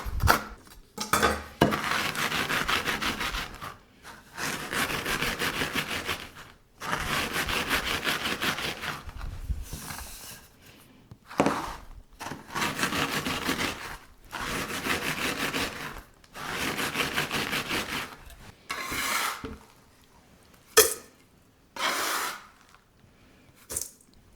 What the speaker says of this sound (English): I just like to chop them up and then kind of roll them out with a rolling pin